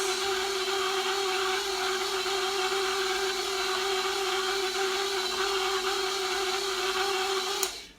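An electric stand mixer running steadily while mixing rosemary-honey sablé dough, a constant close whirring drone that cuts off with a small click near the end.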